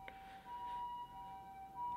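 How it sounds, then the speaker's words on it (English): Emergency vehicle sirens pass an apartment in Osaka, a steady wailing tone with wavering pitch, faint and muffled from outside, with no talk over it. "sorry, these sirens are so loud."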